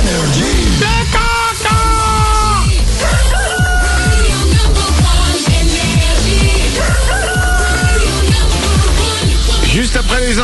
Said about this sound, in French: Il est pile 8h qu'on amène le coq.